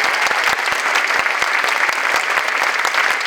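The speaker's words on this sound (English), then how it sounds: "Let's give the 6th grade one more round of applause," Enthusiastic audience applause fills a school holiday band concert honoring sixth-grade musicians, dense steady clapping throughout with sharp individual claps standing out close by.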